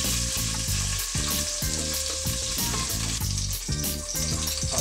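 Chicken sausage browns in a soup pot with a dense, constant sizzle and crackle, loud and close, under a faint rhythmic background pulse and no talking.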